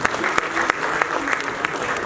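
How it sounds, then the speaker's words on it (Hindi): An audience at an Urdu poetry gathering (mushaira) claps in a dense burst of applause, with several sharp, distinct claps punctuating the steady patter. "तो एक दफ़ा अमरोहा के लिए भी तालियां होनी चाहिए"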